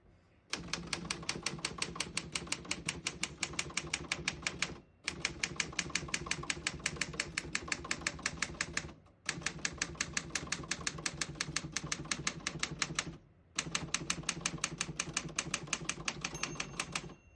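Fast, continuous typing on a 1970 Remington Model 24 vintage desktop typewriter, rapid clacking keystrokes in four long runs separated by brief pauses, close and clear with no talking.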